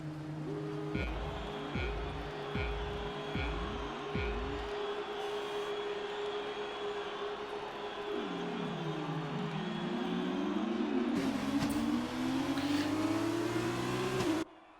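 F2 race cars leave the grid at the start of a 13-lap sprint race in Spain, their engines revving and rising in pitch through repeated gear changes, loud and sustained, with several cars overlapping and a crowd-like wash behind them.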